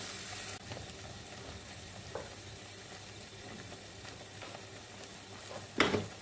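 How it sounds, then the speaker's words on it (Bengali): Spice masala with salt and turmeric fries and is stirred in a pan, a soft continuous sizzle with occasional scrapes and a louder clatter near the end, no talking. "ব্যাস এবার এই মশলাটাকে কষিয়ে নেব ভালো করে"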